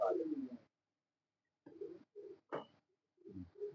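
Pigeons on a keeper's rooftop setup in Rawalpindi coo in several short, soft, low bursts separated by pauses, with a brief sharper flutter or call in between.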